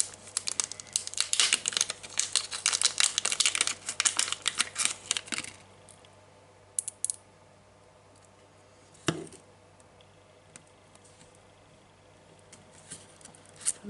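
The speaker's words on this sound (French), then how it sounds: "Donc j'enlève la petite pellicule du double face." Backing film peeled from double-sided tape while assembling a handmade fairy-themed photo album, a dense run of crinkly rustling and tearing for several seconds, then quiet with a couple of isolated crackles; no talking.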